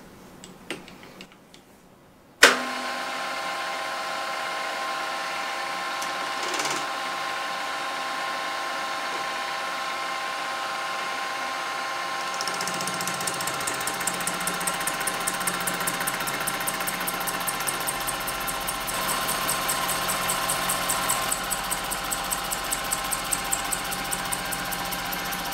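A milling machine spinning at 300 RPM feeds an indexable V-groove cutter at about 200 mm per minute: a sharp clunk, then a steady mechanical whir that turns into a brighter, rattling cutting chatter partway through.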